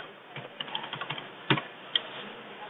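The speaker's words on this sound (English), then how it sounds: "all you have to do, folks, is type in your message" Keys tapped on a computer keyboard while a message is typed, a quiet irregular run of clicks with one or two sharper strokes, close by and without speech.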